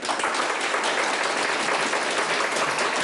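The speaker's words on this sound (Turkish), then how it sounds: "Burada Şener Başkan'ın bir alkışlamanız lazım." An audience at an event claps in dense, continuous applause that stays loud and even throughout, with no voices standing out.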